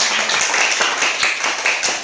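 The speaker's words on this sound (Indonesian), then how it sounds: "Tepuk tangan untuk kelompok 2." Students in a classroom applaud a student group with brisk, fairly loud clapping from a small crowd, an even patter of hand claps continuing for about two seconds.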